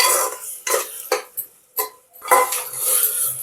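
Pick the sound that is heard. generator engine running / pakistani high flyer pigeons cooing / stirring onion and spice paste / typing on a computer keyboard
stirring onion and spice paste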